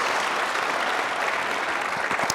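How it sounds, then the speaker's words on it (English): Audience applause for former Transportation Secretary Norman Mineta as he is called up to the stage, a steady, dense clapping wash filling the whole stretch at full strength with no voices over it. "We can clap for Secretary Mineta"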